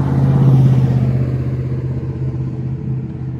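A 2011 Ford Mustang GT premium with a turbo and factory 6R80 transmission rumbles close and loud, its deep engine tone swelling early and then easing to a steady lower idle.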